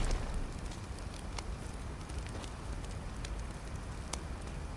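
Fire burning in Fortnite, a soft steady crackle and low roar with faint pops here and there, quiet and continuous with no talk.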